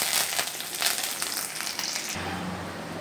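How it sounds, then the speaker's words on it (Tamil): Mustard seeds spluttering in hot oil for Tamil potato masala, a dense crackling sizzle that pops and spits busily, then settles into a quieter, steadier fry near the end. "தேவையான அளவு எண்ணெய் விட்டு அதில் கடுகு பொரிஞ்சிருச்சு"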